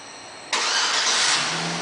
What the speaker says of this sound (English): The turn signals will come on and the car starts right up.